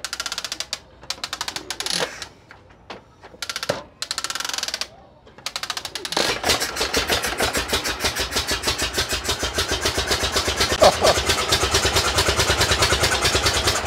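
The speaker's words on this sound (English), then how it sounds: "I'm running a little newer carburetor. It makes it a little easier to start because I've got a choke." An antique car engine fitted with a newer carburetor and choke cranks in stuttering bursts, then catches and settles into a loud, steady, rapidly pulsing run, heard up close at an antique swap meet.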